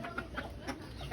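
A chicken clucks in short repeated calls in a Philippine backyard, faint and distant, under a steady hiss of background noise.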